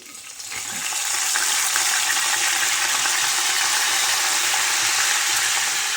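Curry leaves hit hot oil in a pan of mixed vegetables (chickpeas, beans, peas, peanuts, carrot, potato, brinjal), giving a sudden loud sizzle that settles into a steady, crackling fry.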